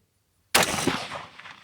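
A single sharp rifle shot from a Seekins Precision SP-10, loud and close, bursting out of silence and decaying with a rolling outdoor echo.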